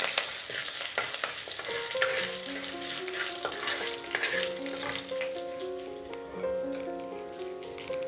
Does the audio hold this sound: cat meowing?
no